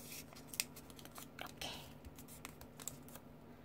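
Soft paper rustles and crisp creases as colored origami paper is folded into a shark, several faint scattered crinkles and taps close by in a quiet room.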